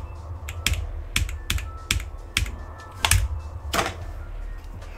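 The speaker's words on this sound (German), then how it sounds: "Hat man den Klick gehört? Man hat ihn safe gehört." Computer clicks, roughly a dozen sharp close taps in an uneven rhythm, some in quick pairs, over faint room hum with no talking.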